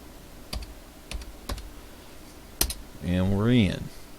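Computer keyboard keys pressed while entering a password, a handful of sparse separate clicks, followed by a short voice.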